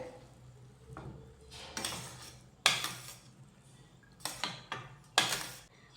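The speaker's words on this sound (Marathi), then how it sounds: "मिक्स करून घेऊयात" A utensil scrapes and clinks against a pan while mixing vegetables with half a cup of water, in several short bursts, close by, with quiet pauses between strokes.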